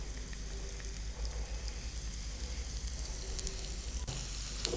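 Sliced onion with turmeric, chili and other spices sizzles in hot oil for pineapple hilsa, a steady soft crackling hiss at close range with no talking.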